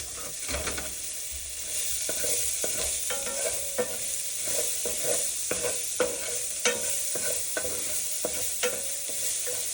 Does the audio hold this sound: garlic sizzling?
yes